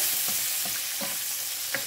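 Capers tipped into anchovies already melting in a frying pan for a puttanesca sauce, giving a steady close sizzle with soft stirring scrapes and a few brief clicks, no voices.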